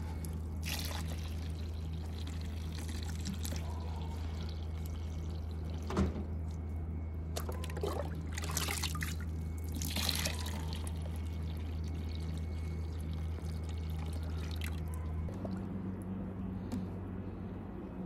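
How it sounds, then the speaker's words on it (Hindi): Water trickles and pours gently in an uneven stream into a homemade fish pond, with occasional louder splashes over a steady low hum. "थोड़ा स्लोली स्लोली पानी डालते हैं हम"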